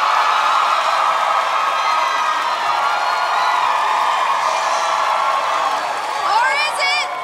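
A studio audience cheers and whoops loudly for the winner of a rap battle show, a sustained crowd roar with shrill shouts and clapping rising near the end.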